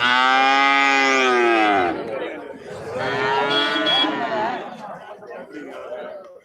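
Cattle at a live calf and cow market moo loudly and close by in long drawn calls, one after another. Chatter from the crowd runs underneath and continues in the pauses.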